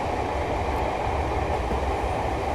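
A train rumbles along the line in the Train Sim World 2021 simulator on a sunny scenic run, giving a steady, continuous rolling roar throughout with no talking.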